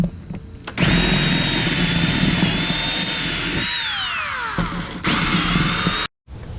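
A power drill whirs steadily while backing screws out of a Super C RV's front cap, its pitch sagging under load near the end, with a short pause before it spins up again and then stops.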